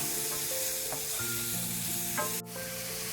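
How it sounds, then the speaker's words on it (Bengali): Minced chicken keema fries on a low flame in a pan, a soft continuous sizzle with occasional stirring scrapes, heard up close with no talking. "খুব লো ফ্লেমে এটা ভাজতে হবে কিমাটা মোটামুটি দশ থেকে পনেরো মিনিট মতন একদম লো টু মিডিয়াম"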